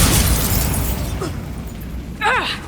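Bombarda spell explosion in Hogwarts Legacy: a loud rumbling blast fills the start and fades over two seconds, followed by a brief whooshing game effect near the end.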